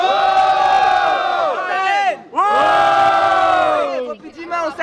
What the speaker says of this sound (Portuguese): quem gostou mais das rimas do Breno na minha direita faz barulho